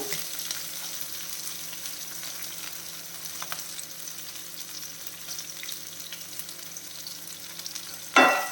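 Dried red chillies frying with ginger in a pan for a poha dish, giving a steady soft sizzle throughout, with a sudden louder clatter right at the end.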